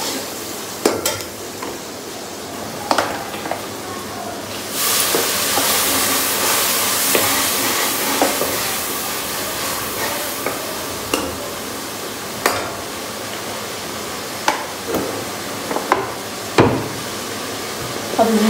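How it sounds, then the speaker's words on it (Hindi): An onion and tomato tadka sizzles in a pan as it is stirred. A steady frying hiss runs underneath while a utensil scrapes and clinks against the pan at irregular intervals. "अभी इसको सिर्फ तड़का लग रहा है, सिर्फ प्याज और टमाटर वगैरह और मैंने सब कुछ डाल दिया है।"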